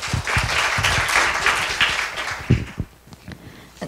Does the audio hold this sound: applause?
yes